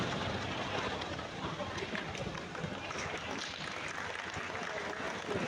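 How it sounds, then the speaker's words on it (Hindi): An audience claps together in a class setting, the sound a steady, dense wash of many hands that stays loud and even throughout with no pause. "तालियां भी बजा रहे"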